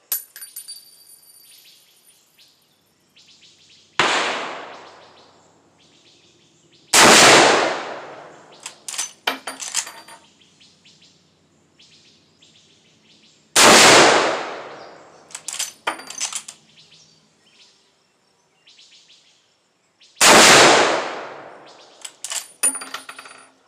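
Marlin .444S rifle firing four loud, sharp shots spaced several seconds apart outdoors, each followed by a decaying echo and the clatter of working the lever action, with no speech.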